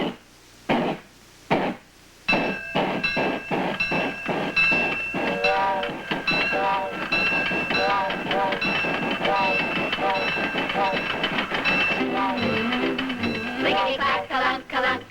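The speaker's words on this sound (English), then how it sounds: "Clickety-clack-a-lunk-a-lunk, a train is coming, ka-chunk" A train rolls by with a steady, rhythmic clickety-clack and high whistle-like tones, while voices carry on over the rail noise for most of the stretch.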